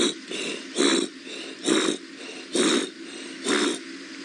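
A person imitates a leopard's sawing call, giving five rough, rasping breaths at a steady rhythm, each about a third of a second long with short gaps between them, close and fairly loud.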